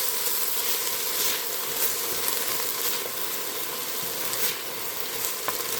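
Leeks sizzling steadily as they sweat in a pot for clam and scallop chowder, a dense, even frying hiss with faint crackles throughout.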